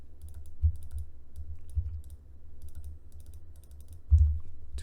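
Soft, continuous keyboard tapping at a computer, close and steady with a few slightly louder keystrokes.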